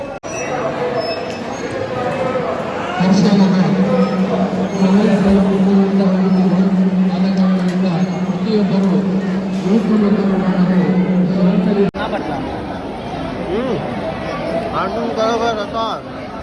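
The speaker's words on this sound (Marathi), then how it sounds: "खूपच गर्दी खूपच गर्दी जाम" Dense crowd babble fills a packed temple at Gokarna, Karnataka, a steady wash of many voices with a sustained droning tone underneath and occasional clinks, continuous and loud throughout.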